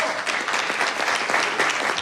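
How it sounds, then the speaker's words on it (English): Applause and cheering ring through City Hall after a stadium deal vote, a dense, sustained wash of many hands clapping at steady loudness with scattered voices mixed in. "Cheers and applause in City Hall tonight."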